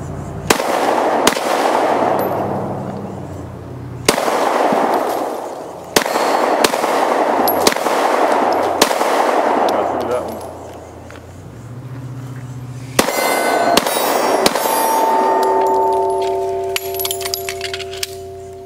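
Glock 26 pistol fired outdoors at bottles, several sharp, loud gunshots spaced out with echoing tails, some shots in quicker pairs.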